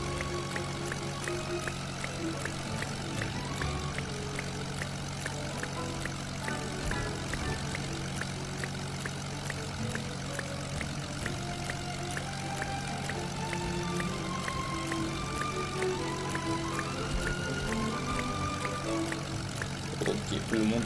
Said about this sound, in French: c'est parti pour le prochain décollage